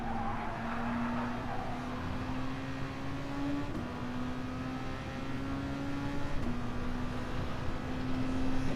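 Race cars in a PlayStation 4 racing game on worn tyres late in a race, a loud engine whine rising steadily and dropping at each gear shift, with a dense track roar underneath.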